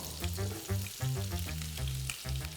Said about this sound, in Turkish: soğanı hafiften pembeleşene kadar kavuruyoruz